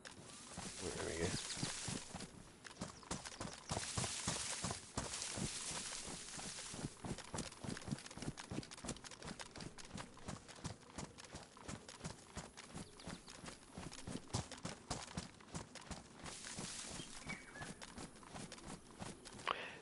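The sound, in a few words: footsteps in assault boots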